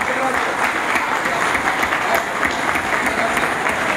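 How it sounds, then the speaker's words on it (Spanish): Steady audience applause fills the space at an anniversary gala for radio announcers, a dense, continuous clatter of many hands clapping at even loudness throughout. "quiero pedir un aplauso"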